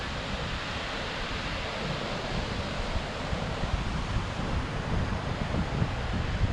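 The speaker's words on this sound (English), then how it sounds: "There's a little waterfall in back of me over there." A small waterfall in a gorge, heard from a scenic overlook at Bear Creek Falls, Colorado, makes a steady broadband rushing hiss, constant and moderately loud with some wind buffeting.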